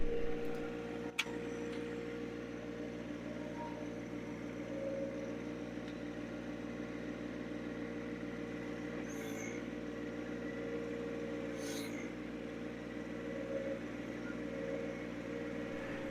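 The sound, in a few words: subcompact tractor driving in four-wheel drive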